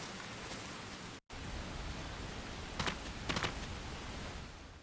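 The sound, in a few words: heavy rain in the video game Disaster: Day of Crisis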